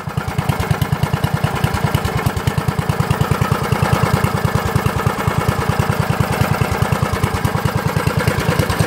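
A generator engine running on compressed biogas, a loud, close, rapid chugging beat that stays steady and even throughout, with no voices.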